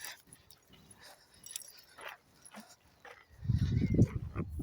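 A small dog whimpers and fusses during a Sunday morning walk outdoors, soft at first, then a louder, closer burst of low whining and snuffling near the end over faint background sounds.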